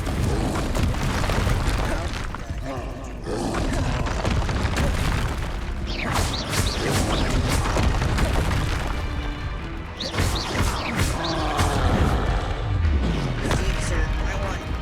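Confringo explosive spell blasts from the video game Hogwarts Legacy boom and crash through a busy, loud fight, with someone talking over the din.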